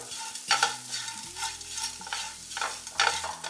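A spoon stirs potato fry with ground cumin in a hot pan, making rhythmic scraping strokes over a soft sizzle. The sound is close and repeats about every half second, with no talking.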